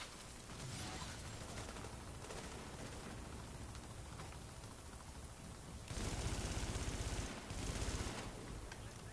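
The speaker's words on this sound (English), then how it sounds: "I don't know if that's all of the turrets being activated." Automated gun turrets firing in The Division, sustained rapid bursts of gunfire with a louder, denser stretch of shots toward the end, no voices over it.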